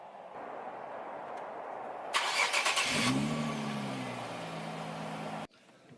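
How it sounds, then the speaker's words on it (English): A starter cranks briefly, then the engine of a 2008 Infiniti G35 sedan catches and settles into a steady idle before cutting out abruptly near the end. "let's start it up and go for a drive"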